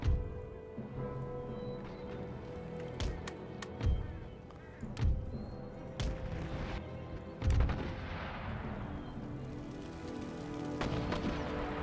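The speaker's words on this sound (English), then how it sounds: "The mortars are firing" Mortars in the Empire: Total War game fire in a slow, irregular series of deep booming shots, each with a sharp crack and rumbling tail, over a constant hissing battlefield ambience.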